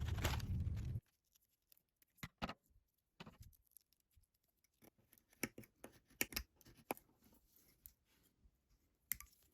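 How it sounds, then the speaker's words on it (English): Scissors snipping thread that holds wires to the paper cone of a 1930 Brunswick Model 15 radio speaker, sparse sharp clicks and small snips after a short burst of louder noise, close and quiet. "Now right here we have the wires secured to the cone with thread, so I'm going to cut those out"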